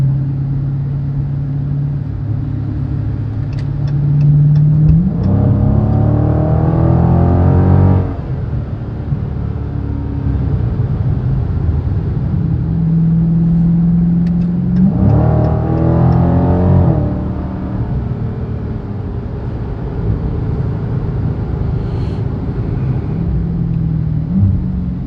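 Dodge Challenger 1320 drag car engine revving and accelerating in two loud bursts, each climbing through rising gear tones before dropping back to a rumbling idle, heard close in hot outdoor conditions.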